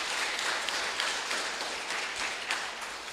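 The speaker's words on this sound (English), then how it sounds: "Please welcome him with a round of applause." An audience claps in welcome for a contestant at a public speaking contest's final round, a dense, steady round of applause lasting a few seconds without a pause.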